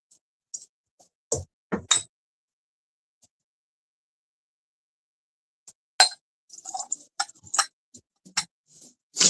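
A 1.5 ounce shot glass is handled and set down, giving a few sharp glassy clinks and taps separated by silence, with a quick cluster of knocks near the end.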